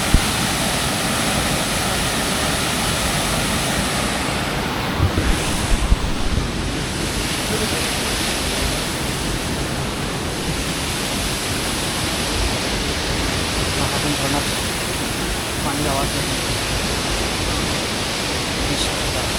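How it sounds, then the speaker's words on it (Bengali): Nafakhum waterfall roars in a dense, unbroken wash of rushing water, loud and steady from start to finish, with faint wind buffeting the microphone. "ঝর্ণার আওয়াজ"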